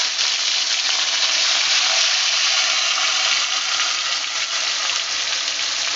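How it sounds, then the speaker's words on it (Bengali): Pond fish frying in hot oil in a wok over low heat, giving a steady, dense sizzle that holds loud and even throughout, close up, with no voices. "একটা একটা করে মাছ দিয়ে এবার ভেজে নেব।"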